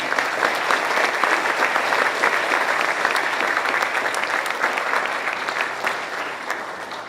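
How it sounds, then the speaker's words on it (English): Audience applause at a middle school banquet, a dense, steady roar of many hands clapping that carries on for several seconds and fades slightly at the end, with faint crowd noise beneath. "give them a round of applause, please"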